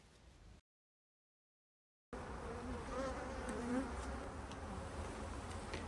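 Honey bees buzzing around a hive frame pulled from a colony, a dense droning hum close by after a short silent gap, with a few individual bees flitting past.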